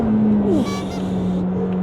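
A McLaren 750S engine drones loudly and close, with a quick sliding pitch change as it downshifts, then settles back into a steady note.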